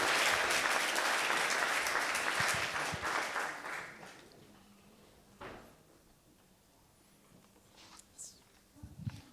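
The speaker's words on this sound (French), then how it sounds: "On l'applaudit bien fort." A film festival audience claps loudly and steadily, then the applause fades out, leaving a quiet room with a few faint knocks and shuffles.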